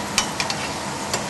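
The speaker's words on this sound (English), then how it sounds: "Boiling a little bit. It's going to calm down soon enough." A pot on a stove bubbles and sizzles in a steady, close hiss, broken by a few soft pops and stirring sounds, with no one speaking.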